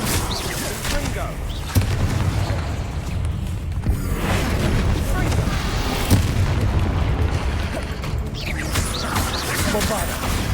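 Repeated Confringo fire spells blast in the Hogwarts Legacy video game, a dense barrage of booming explosions with sharp bursts near 2 and 6 seconds over rumbling game noise, heavy and continuous.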